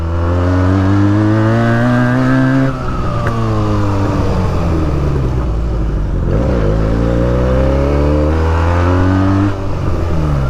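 A Benelli TNT 300 motorcycle fitted with an Akrapovic exhaust revs loudly and steadily up close, its engine note rising and falling in long sweeps with no voices over it.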